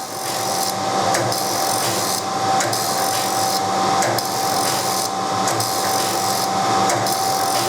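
Carbide wood router cutter being sharpened on a grinder, giving a continuous loud, harsh grinding whine with periodic surges in intensity, close to the microphone and with no talk.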